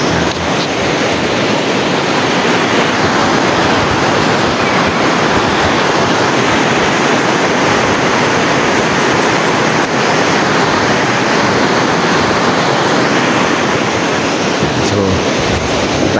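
Alegria Falls on a hiking trail in Surigao del Norte rushes with a loud, unbroken roar of falling water that fills the whole stretch, with no speech.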